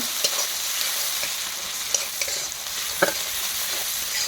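Chopped onions frying lightly in a wok for a Bengali-style soybean dish, a steady broadband sizzle with a few sharp clicks and scrapes as they are stirred; close and continuous, no talking.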